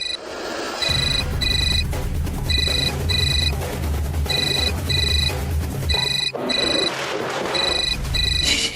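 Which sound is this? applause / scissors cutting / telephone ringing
telephone ringing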